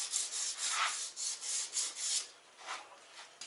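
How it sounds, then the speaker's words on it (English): Gentle rasping strokes of a file clearing burrs from a Ford BA Falcon rear axle shaft, a series of soft, rhythmic scrapes, close and fairly quiet, with no voices. "you're just here to remove any burrs or edges that you might have put on when you nicked the shaft"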